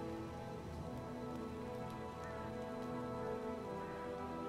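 Rain falls steadily in a video game battle scene, a soft continuous patter and hiss that stays faint and even from start to finish, with no voices.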